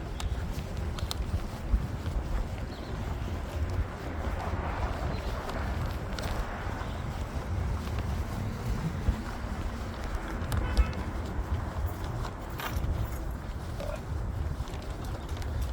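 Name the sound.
wind blowing outdoors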